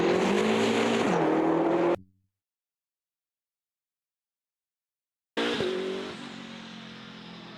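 A car engine revs loud and harsh, with heavy microphone distortion; it blares for two seconds, cuts to total silence, then roars back and slowly eases off.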